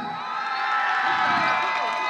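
A crowd cheers and whoops for the first-place winner of a bottle contest in El Jalocote, Autlán, Jalisco, a steady, dense roar of voices holding for about two seconds with little sign of separate claps.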